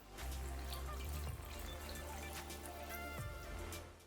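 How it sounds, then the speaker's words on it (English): Warm water pours from a vessel into flour for lahmacun pide dough, a close, quiet trickling stream that runs continuously and thins briefly in the middle, with no voices. "I add warm water."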